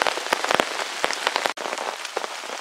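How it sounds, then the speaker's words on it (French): Heavy rain pours down at a bushcraft bivouac camp during a thunderstorm. The downpour is loud and close, with dense pattering and sharper individual drop hits on surfaces, and no voices. "Bon, il pleut pas mal fort."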